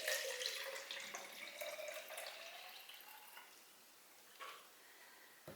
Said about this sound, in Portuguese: despejando esse excesso de água num pote